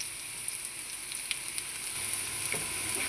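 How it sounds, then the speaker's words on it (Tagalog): Onion, tomato, garlic and ginger sauté in a hot pan with a steady close sizzle and light crackle, occasional stirring scrapes breaking through the continuous frying hiss. "naggigisa na po tayo ng sibuyas, kamatis, bawang at luya."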